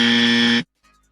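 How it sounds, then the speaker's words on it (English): A loud, harsh buzzer sound effect blares steadily for just over half a second, then cuts off abruptly into near silence. "Let's give him the dummy buzzer."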